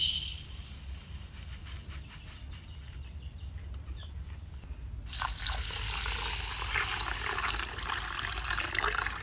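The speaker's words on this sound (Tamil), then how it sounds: "நாங்க இப்ப அரிசியை வந்து ஒரு சட்டியில கொட்டி தண்ணி ஊத்தி ஊற வைக்க போறோம்" Water pours steadily into a pot of samba rice for soaking, starting as a thinner trickle and then surging into a louder, fuller gush for the last few seconds.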